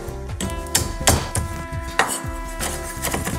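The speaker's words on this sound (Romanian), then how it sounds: "doar tăiem puțin, nu trebuie să tocăm foarte tare" Knife coarsely chopping walnuts on a board for a salad with prosciutto, a series of sharp irregular thuds and cracks close up, roughly a dozen cuts over a few seconds.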